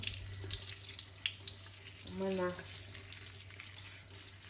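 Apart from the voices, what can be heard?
rinsing mint leaves under running tap water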